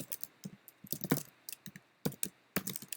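Keys tapped on a computer keyboard while writing Java code, a quick irregular run of close, crisp clicks in small bursts with short pauses between.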